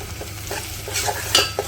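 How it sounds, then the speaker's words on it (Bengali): Onions and green chillies sizzle and crackle steadily in a hot pan with cardamom and cinnamon, with a few scraping stirs of a utensil, close and fairly loud. "পেঁয়াজ আর কাঁচামরিচ দিয়ে দিচ্ছি, ওগুলো একটু ভাজা ভাজা করে নিই।"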